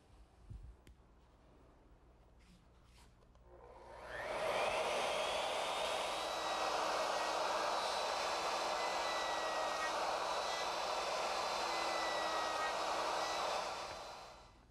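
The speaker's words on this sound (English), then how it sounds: "I'm going to use my router, which is equipped with a 5/8-inch collar and a 1/2-inch straight cutting bit." A handheld router fitted with a 5/8-inch collar and a 1/2-inch straight cutting bit mills the edge of a wooden cradle headboard along a jig. Its loud, steady high-pitched whine starts after about four seconds of quiet and holds until it stops near the end.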